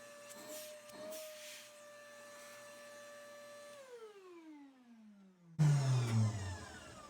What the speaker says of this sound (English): I have a little vacuum hose here, and all I have to do is hit this switch